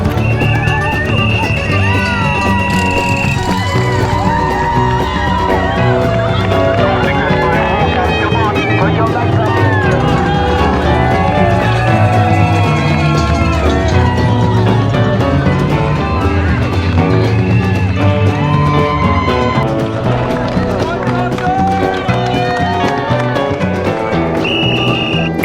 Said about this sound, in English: coming up to mile 21, and the biggest cheer area indeed, which is the Run Dem Crew area